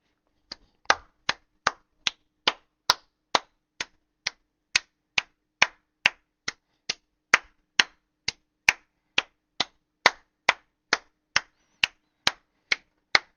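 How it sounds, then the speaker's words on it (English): Clapping during a live stream, a steady run of about two dozen single sharp claps at an even rhythm, crisp and close with silence between each. "Let's fucking get a clap on for the Quinn, everybody"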